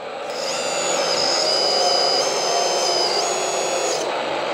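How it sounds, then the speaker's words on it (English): Simulated hydraulic pump sound from an RC excavator sound system on a DoubleE three-arm excavator, a steady whining electronic hum with a rising tone, continuous for about four seconds and heard alone. "You will see when it's operating. That's a hydraulic sound."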